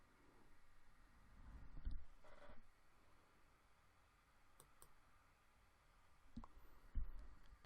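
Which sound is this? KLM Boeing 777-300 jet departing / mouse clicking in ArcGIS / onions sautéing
mouse clicking in ArcGIS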